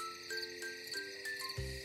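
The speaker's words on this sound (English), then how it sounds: "Grasshopper." Grasshopper chirping in a children's insect-sounds sequence: a steady, high, buzzing stridulation with a few brief rhythmic pulses, fairly faint and with no voices.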